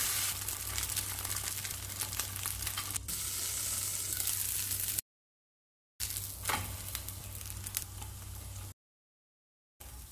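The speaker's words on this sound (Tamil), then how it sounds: "திருப்பி சேர்த்து வேக விடணும்." Aval adai, a flattened-rice dosa, cooks on a pan with a continuous close sizzle and crackle, interrupted by two sudden silent gaps and a brief scraping stir as it is turned.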